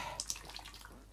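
Water splashing and dripping as a soaked sponge is wrung out by hand, a short, faint wet trickle with scattered drips, heard alone in a children's audio drama.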